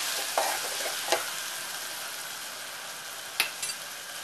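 Dry Bombay duck chutney with coriander is mixed in a pan over a steady, close frying sizzle, with a few brief, sharp spatula scrapes and no voices.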